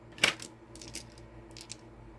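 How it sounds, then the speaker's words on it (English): Dice are rolled onto a hard surface in a quiet room: one sharp clatter, then a few lighter rattles as they settle. "let's roll some dice and see how much we gonna do for the water bill"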